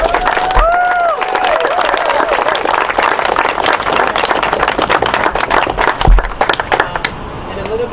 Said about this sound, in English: So I want to give a round of applause to housegiveaway.org and what everything is.